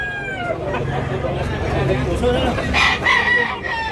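A rooster crows at a fighting-cock market in Tabunok, Cebu City, its call rising over steady crowd chatter and other birds nearby.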